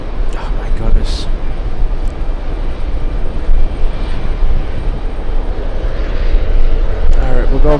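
An airliner at JFK airport: a loud, steady jet engine roar with gusty wind rumble, strong throughout and swelling slightly near the end, with a voice talking over it.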